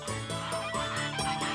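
Cartoon ducks on a backwater lagoon let out a run of loud, honking quacks in quick bursts, close and continuous with no talk.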